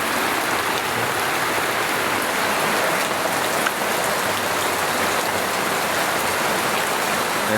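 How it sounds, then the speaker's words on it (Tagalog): Heavy rain pours down steadily in a sudden downpour, a dense continuous hiss of drops drumming on surfaces close by, loud and unbroken throughout with no voices. "Dahil tayo sumilong kasi biglang bagsak lang din ng ulan."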